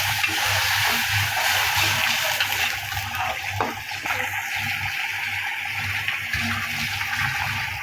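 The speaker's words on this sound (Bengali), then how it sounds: "একটু পানি দিয়ে দিই।" Water poured into a pan of fried onion, chili and turmeric powder, a loud steady sizzle and bubbling with a few stirring knocks, close up.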